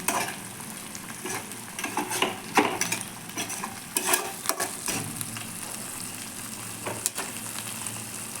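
Rohu fish fries in oil over a low gas flame for a Bengali spicy fish jhal, giving a steady close sizzle broken by occasional stirring scrapes and light utensil clinks.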